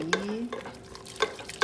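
Milk is worked into a thick sauce mixture in a pan for chicken lasagna, with a few sharp clinks and scrapes of a whisk against the pan at an uneven pace, close up.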